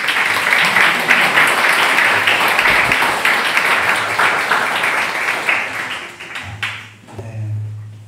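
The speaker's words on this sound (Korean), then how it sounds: "선교사님 앞으로 나오실 때 여러분 큰 박수로 환영해 주시기 바랍니다." A church congregation applauds loudly to welcome a missionary forward at a Sunday worship service in Madrid; the steady clapping fades toward the end as a low hum and room noise take over.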